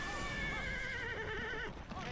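A horse in the video game Lost Odyssey gives a loud, wavering whinny lasting nearly two seconds, with a short snort at the end, heard up close over game background sound.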